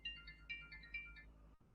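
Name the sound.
phone ringing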